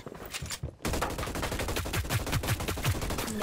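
Rapid automatic gunfire in the PS4 shooter HyperScape: after a short quiet moment, loud, dense bursts of shots rattle on continuously close by.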